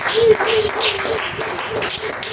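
A church congregation applauds together, a dense, steady wash of clapping that fills the space for a couple of seconds, with a few voices mixed in.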